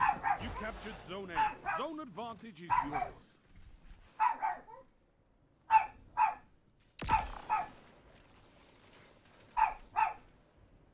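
A dog barks and yips in a room during a livestream of a competitive shooter game. There are repeated bursts of barking, some close together, mixed with someone talking and a game announcer's voice.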